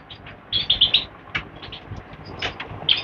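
A yellow-bellied siskin gives a few short, bright chirps in a quick cluster, then calls once more after a pause, fairly close over a low, busy background.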